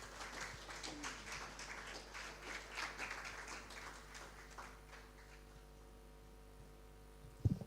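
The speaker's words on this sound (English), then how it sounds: "A round of applause for him, please." Audience applause at a West Africa media excellence conference and awards ceremony, a dense wash of clapping from a crowd that swells early, holds for several seconds, then thins out and fades, with a sharp knock near the end.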